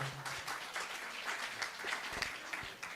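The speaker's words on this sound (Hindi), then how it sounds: "आप जोरदार तालियां बजाएं" A crowd at a Hindi poetry recital applauds, dense clapping that holds steady and fairly loud throughout, with no pause.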